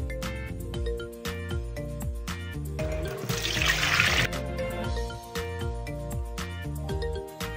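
Superworms being rinsed repeatedly in water, with splashing and running water swelling briefly in the middle over a loud steady background tune.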